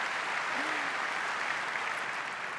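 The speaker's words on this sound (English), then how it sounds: "Let's give her a round of applause." Audience applause at a corporate technology presentation as a presenter is welcomed on stage, a dense, even wash of clapping from a large crowd held steady throughout.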